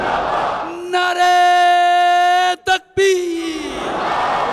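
At Jalsa Salana Germany, a large crowd roars a Takbir slogan in unison, the massed voices swelling before and after one man's long, drawn-out call.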